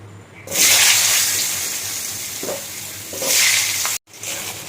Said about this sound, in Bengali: এবার আগে আলু কটা ভেজে নেব